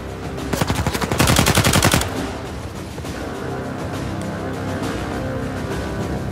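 Rapid automatic gunfire from the video game Uncharted 4, a loud burst of repeated shots lasting about a second and a half, followed by a steady background of game ambience and effects.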